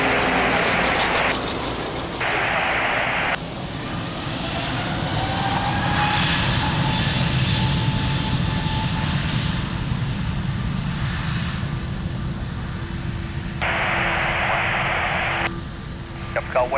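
A Turkish Airlines jet takes off from runway 02 at Lisbon Airport, its engines building into a loud, sustained roar with a rising whine, heard over intermittent radio chatter.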